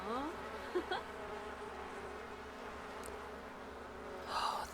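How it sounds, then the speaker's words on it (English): Bees kept at a country farm in The Sims 4 buzz in a low, steady drone, faint and continuous, with a few brief game sound effects over it and no talking. "bond with your bees"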